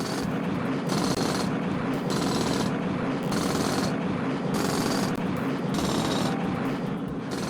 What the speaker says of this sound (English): so I'm just going to drill directly upwards.